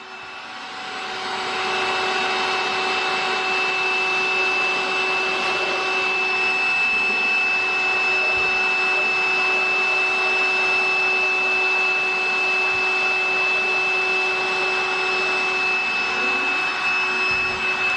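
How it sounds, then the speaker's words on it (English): A vacuum cleaner sucking debris out of a Honda Super Cub engine runs steadily and loudly throughout, a constant whining drone with a high pitched tone after it spins up at the start. "We'll just get the vacuum and suck that out"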